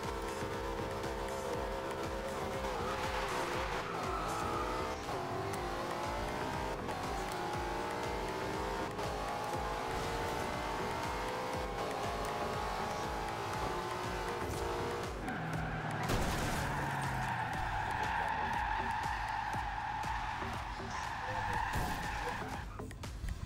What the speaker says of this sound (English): That was all drift